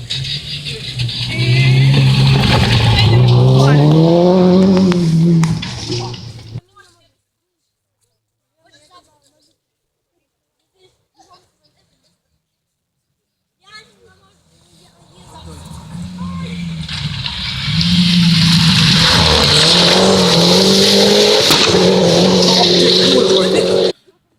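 A rally car races near the listener with loud engine revving and skidding, cuts out to near silence in the middle, then roars back. Voices talk over the opening stretch.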